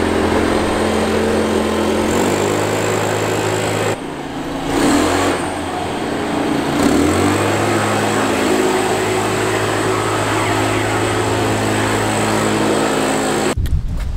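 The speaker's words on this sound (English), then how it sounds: "I would get the blower and just blow it" A motorized blower roars steadily while blowing out a stable, loud and close, its engine pitch shifting up and down a few times before cutting off near the end.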